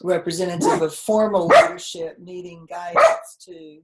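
A pet dog barks in the background of a home video call while a person keeps speaking; the barks are mixed under the steady talk, and they come in short bursts through the clip.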